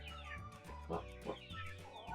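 Three-week-old Kholmogory goslings kept in a farmyard give a string of soft, high chirping calls close by, several short peeps overlapping in an uneven rhythm.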